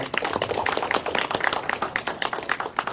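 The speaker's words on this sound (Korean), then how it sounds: "우리 회장님께 뜨거운 박수 한번 부탁드리겠습니다" Audience at a book concert opening applauding the chairman, scattered claps in a steady indoor patter at moderate level, without speech.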